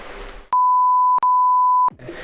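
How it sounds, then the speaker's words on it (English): A loud, steady censor bleep runs in two long tones split by a split-second gap, cutting over speech. Brief talking is heard before and after the bleep. "I'm gonna beep this out."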